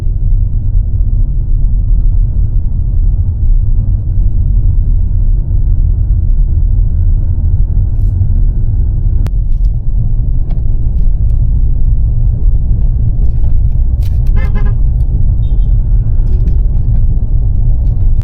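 Steady low-frequency road rumble and drone fill the car interior throughout, with a few brief rattles and knocks from the bumpy surface; no talking.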